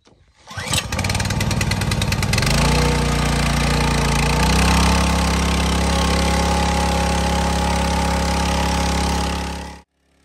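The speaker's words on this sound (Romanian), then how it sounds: "vom accelera motopompa și vom acționa de demaror până când motorul a pornit" An O'MAC MP 6500 motor pump at a drip irrigation setup in an orchard cranks over briefly, catches and settles into a loud, steady close-up engine drone before cutting off at the end.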